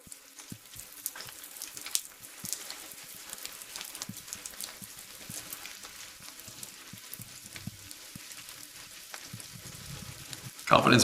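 Steady rain falling, a dense hiss of drops pattering on a surface with scattered sharper taps, continuous and fairly soft throughout, swelling briefly louder at the very end.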